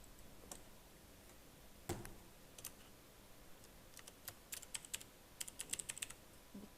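Typing on a computer keyboard while entering patient details into a hospital charge capture application form, with quiet scattered key clicks that grow into a quicker run of taps toward the end, close and soft, no speech.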